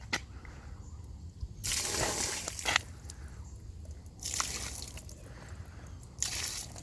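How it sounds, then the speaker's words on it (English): Water poured out of a backyard bird bath, with several bursts of splashing and sloshing spilling onto the ground outdoors, each a few seconds long and separated by quieter gaps. "bird bath needs to be poured out a little bit."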